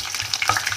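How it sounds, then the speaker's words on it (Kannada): Mustard seeds spluttering in hot oil, a brief close burst of sharp pops and crackles over a steady frying hiss. "ಇದು ಸ್ವಲ್ಪ ಫ್ರೈ ಆದಮೇಲೆ ಅದು ಸಾಸಿವೆ ಸಿಡಿದ್ಮೇಲೆ"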